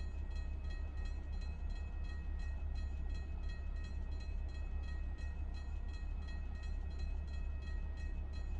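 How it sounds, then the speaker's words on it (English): A short double-stack freight train hauling trailers rolls past in American Truck Simulator, a steady loud rumble of wheels and cars with faint rhythmic clatter throughout, no voices. "A little double stack train with some FedEx trailers."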